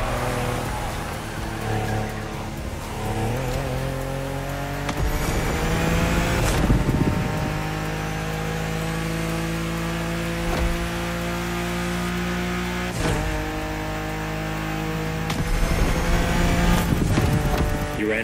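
A Honda NSX hybrid racer in The Crew Motorfest, engine revving and climbing through gears with sustained loud drone, brief shifts and tire squeal, close and continuous throughout.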